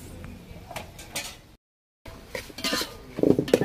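Tomatoes being fried and stirred in a pan for beef kulambu: scattered spoon scrapes and metallic clinks, a brief silent break in the middle, then busier, louder clattering toward the end.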